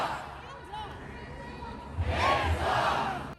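A large street protest crowd chants "Hands off" against Trump and Musk, a broad roar of many voices that swells louder partway through and stays full.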